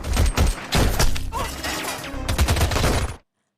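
Gunfire and explosions from a battle scene in an Indian action film: dense, loud bursts of overlapping shots and heavy thuds fill about three seconds, then cut to silence.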